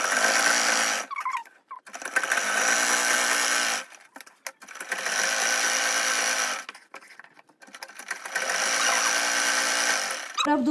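Sewing machine stitching embroidered salwar fabric in four long loud bursts of steady whirring, separated by short quiet pauses while the cloth is repositioned.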